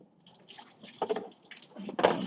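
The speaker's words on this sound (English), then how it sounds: "I have to dump some of this water." Water being dumped out of a container in a garden, splashing and pouring in two bursts, the second stronger, fairly close with light background sound.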